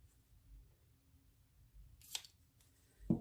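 Scissors snip through scrap paper while trimming the edges of a ribbon bow for a scrapbook layout: a quiet setting, then one sharp cut just after two seconds and another brief snip at the end, with no talking.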